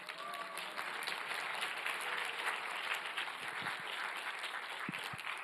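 An audience at a church prayer gathering applauds steadily and evenly throughout, a dense wash of many hands clapping in a large room, with a few faint voices underneath.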